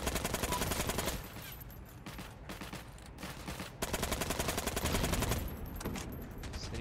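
Sustained machine-gun fire in a video game, long rapid strings of shots with a couple of short breaks, fairly loud and continuous across the stretch.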